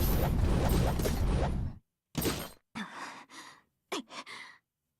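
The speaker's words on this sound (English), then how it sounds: "Saber's breathing is labored" Labored breathing from the character Saber in the Fate/Stay Night Remastered game: a long breathy exhale, then several short ragged gasps and breaths separated by silences, close and clear.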